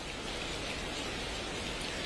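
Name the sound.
heavy rain with wind in the city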